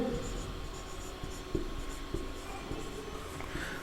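Pen writing an accounting journal entry by hand on paper, a steady scratchy scribble with short pauses between strokes, close and fairly quiet.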